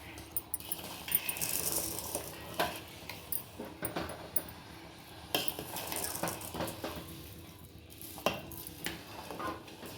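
A spoon scrapes and clinks against a metal pot in an irregular rhythm of stirring kalkandu pongal, with faint taps and scraping throughout, nearby and fairly quiet.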